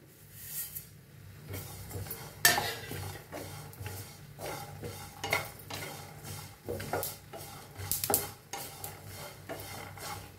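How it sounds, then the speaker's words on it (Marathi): Peanuts, coconut and sesame seeds dry-roast in a pan, stirred with a spatula that scrapes and rasps against the metal in irregular, gritty strokes, close and moderately quiet. "आता शेंगदाणे चांगलं भाजायला आहे, त्याच्यातच खोबरं भाजून घेऊया"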